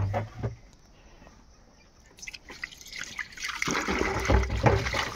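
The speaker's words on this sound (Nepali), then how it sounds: "यहाँ पानी हाल्छ" Water poured into a vessel during home-made Nepali raksi making, starting with faint drips and trickles, then a louder, fuller splashing pour building over the last seconds.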